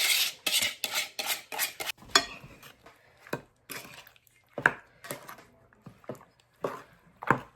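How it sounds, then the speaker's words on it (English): A spoon stirs grapes through a cream mixture in a bowl, giving irregular clinks, scrapes and wet squelches with short pauses between strokes, close and fairly quiet. "we're going to mix this up really good"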